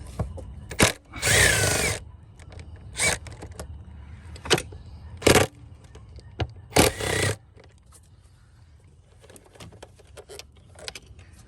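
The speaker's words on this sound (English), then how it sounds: "Should be two 10 millimeter bolts. Let's take the bolts off." A power tool takes 10 millimeter bolts off a 2020 Chevrolet Silverado with an EVAP purge valve fault, sounding as short, loud whirring bursts. Metallic clinks and handling noises fall between them, and the clip then goes mostly quiet.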